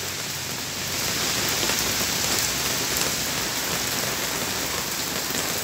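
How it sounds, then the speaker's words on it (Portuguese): Steady, dense moderate to heavy rainfall hissing continuously across the whole stretch in Porto Alegre at nightfall, growing a little heavier after the first second, with no voices. "Chuva moderada, forte."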